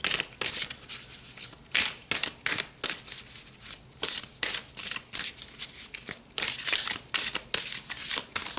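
Tarot cards being shuffled by hand, a steady run of crisp riffling bursts, close and fairly quiet, repeating through the whole stretch with no talk.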